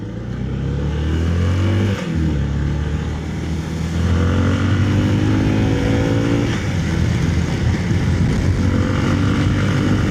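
A Triumph 400 scrambler motorcycle revs loudly nearby, the engine note climbing and dipping before rising again as it accelerates away, a strong continuous roar with no talking.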